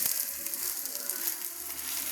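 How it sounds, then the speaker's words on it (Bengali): Patishapta pitha frying in a spoonful of oil in a pan gives a steady, close sizzle with a bright hiss that holds evenly throughout, with no talking. "এবার আমি 1 চামচ তেল দিয়ে দিলাম, দিয়ে ভেজে নিচ্ছি।"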